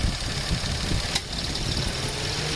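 A Mitsubishi Mirage's steady low engine idle rumbles continuously with the air conditioning off, fairly close, with a brief faint click partway through and no voices.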